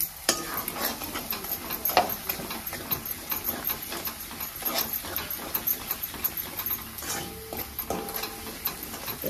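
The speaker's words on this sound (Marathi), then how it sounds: "पूर्ण आता हे हलवून घ्यायचं आपल्याला" A spoon scrapes and stirs through thick dum aloo spice mixture in a pan, a continuous busy scraping with faint sizzling, no talking.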